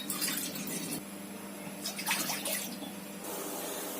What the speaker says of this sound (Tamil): மேகி வேக வைக்க 2 டம்ளர் தண்ணி ஊற்றிக்கலாம்